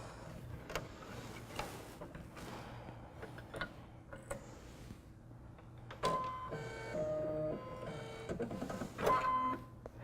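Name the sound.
embroidery machine lowering needle to pull up bobbin thread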